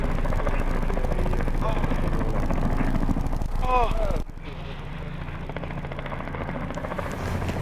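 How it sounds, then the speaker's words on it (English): A small helicopter in flight makes a steady, loud, close rotor-and-engine roar that drops in level partway through, with brief exclamations from people on board. "Actually, it's quite a capable little helicopter."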